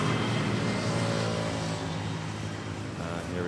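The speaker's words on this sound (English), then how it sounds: "Beechcraft 350." A Beechcraft 350 twin-propeller aircraft at Manila Airport produces a steady, loud broadband drone of engines and propellers that holds throughout without fading.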